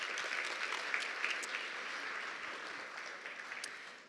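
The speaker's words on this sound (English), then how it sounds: "If everyone can give them a round of applause again" Audience at a PPF Vancouver presentation gives a round of applause, a steady, fairly quiet wash of many hands clapping that fades slightly near the end, with no talk over it.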